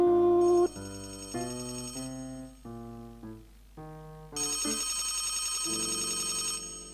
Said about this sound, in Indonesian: Telepon sih.